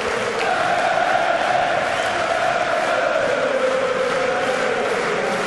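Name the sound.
darts crowd cheering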